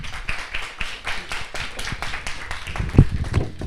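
Audience clapping in a hall after a science lecture on communication technology, steady applause with a brief louder clap near the end.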